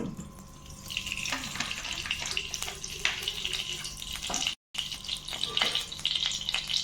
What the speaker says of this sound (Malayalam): ഇതിലേക്ക് ഞാൻ കുറച്ച് വെളിച്ചെണ്ണ ഒഴിച്ചു കൊടുക്കണേ